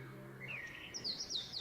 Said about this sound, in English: The birds are singing right now.